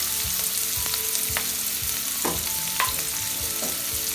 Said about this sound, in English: once the oil gets heated, add required amount of onions in it.